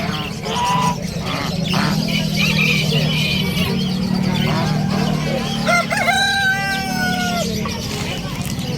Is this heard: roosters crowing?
yes